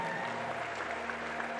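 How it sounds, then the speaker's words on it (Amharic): Brief burst of clapping from a church congregation during worship, steady and moderately distant, lasting under two seconds. "አጨብጭቡ ለኢየሱስ ስም።"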